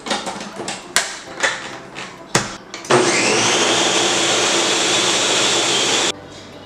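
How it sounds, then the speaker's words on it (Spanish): Blender liquidizing a pumpkin flan mixture with vanilla, a few short pulses and clunks before the motor runs loud and steady for about three seconds, then cuts off. "Y llevamos nuestra mezcla a licuar bien."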